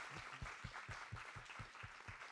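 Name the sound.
applause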